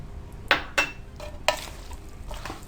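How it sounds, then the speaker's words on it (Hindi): Fried chana chaat is stirred and mixed in a bowl or pan, making a few sharp scraping, clattering strokes at uneven intervals, close and fairly quiet, with no talking. "बस इसको अच्छी तरह से हमने मिक्स किया"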